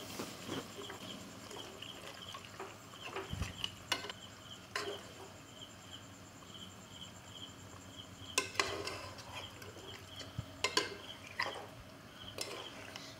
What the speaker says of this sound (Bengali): এখন আমি সমস্ত উপকরণগুলো একসঙ্গে মিশিয়ে নিব।